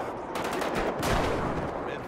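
Gunfire in the video game GTA V during a gang fight, heard as a few sharp shots amid busy game noise, partly masked.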